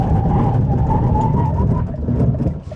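A Deepal S05 brakes hard from speed to a full stop, heard as a steady, loud road and cabin hum with a faint whine that fades as the car settles near the end.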